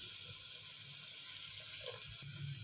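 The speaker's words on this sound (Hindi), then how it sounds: "पानी इसके अंदर मैं तकरीबन 3 गिलास लगाऊंगी" Water poured into a pot of mutton while cooking mutton kunna: a steady, continuous splashing rush that lasts the whole time, close and fairly loud, with no talking.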